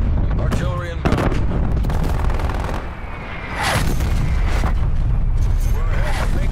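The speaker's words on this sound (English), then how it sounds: "Artillery inbound." Heavy artillery-strike explosions in a video game boom loudly and densely, with rumbling impacts layered over one another and a brief lull midway; a voice speaks faintly in the background.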